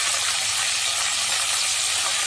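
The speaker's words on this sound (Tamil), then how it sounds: "வெங்காயம் அதிகம் வதங்கணும்னு அவசியம் இல்லை, லைட்டாக 1 நிமிஷம் வதக்கி" Onions sauté in a pan for Madurai-style brinjal tamarind curry, giving a steady, loud hissing sizzle that continues without a break and with no talk.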